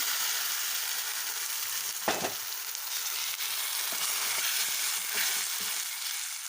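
Ground urad dal paste is stirred in a frying pan, giving a steady close sizzle throughout with one sharp scrape and a few soft stirring knocks.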